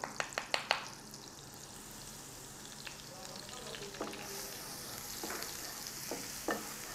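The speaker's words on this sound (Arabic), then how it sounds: "بقلب التومة كويس أوي في الزيت والزبدة" Garlic fries in oil and butter in a pan with a steady close sizzle, broken by a few sharp clinks and scrapes of stirring near the start and scattered later.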